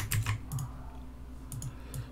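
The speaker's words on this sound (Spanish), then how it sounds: "Disculpen si suena demasiado mi celular, mi teclado" Computer keyboard typing during a live esports match broadcast, with quick bursts of clicky keystrokes in short clusters over a steady low hum. No one speaks.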